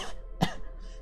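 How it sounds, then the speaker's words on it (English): A single short cough, close and sharp in the middle of an otherwise quiet moment, with a brief throat-clearing quality. "I still have a bit of a cough"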